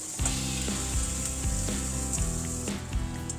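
Sliced onions with a little salt frying in a pan for a Bengali okra fry, giving a steady, close sizzle with a few soft knocks of stirring.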